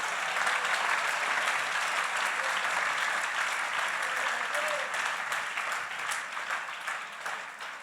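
Loud, sustained applause from a church congregation during a service, a dense wash of clapping for Jesus that holds steady for several seconds and tapers slightly toward the end.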